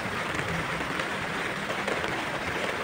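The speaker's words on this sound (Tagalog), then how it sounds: "malakas ang ulan" Dense, steady hiss of heavy rain pouring down by the Marikina River, continuous and even without breaks or voices.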